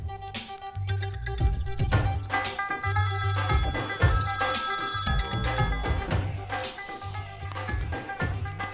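A telephone rings amid a dense, loud film soundtrack with music and effects in a romantic movie scene, the ring's tones threading through the mix for several seconds.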